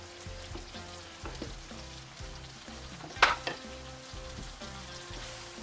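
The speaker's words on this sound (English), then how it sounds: "I'm going to put the garlic in there" Garlic sizzles and fries steadily in a pan for a zucchini pasta sauce, a close continuous crackle with occasional stirring scrapes and one sharp clink midway, no talk.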